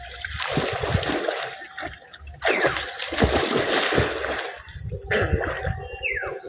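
Water splashes and sloshes repeatedly as someone bathes in a village pond, with irregular close splashes and gurgles and no talking.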